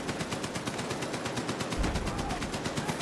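Sustained machine gun fire in Battlefield 6 runs as a dense, rapid stream of loud, evenly spaced shots, with a heavier low boom partway through and constant battlefield noise.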